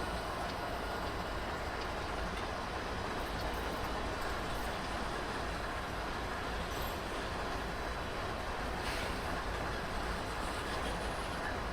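An ES44 locomotive train rolls along the tracks in Cheyenne. It makes a steady, loud, continuous rumble with faint rhythmic wheel clatter, and no one speaks.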